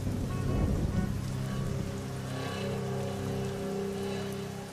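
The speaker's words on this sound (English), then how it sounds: "It was absolutely pissing rain." Heavy rain pours down steadily, a dense continuous patter on surfaces with a faint low rumble beneath, loud and close throughout with no voices.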